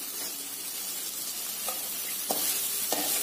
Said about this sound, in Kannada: ಹಾಗಾಗಿ ಸಣ್ಣದಾಗಿ ಉರಿ ಇಟ್ಕೊಂಡು ಫ್ರೈ ಮಾಡ್ತಾ ಇದ್ದೀನಿ.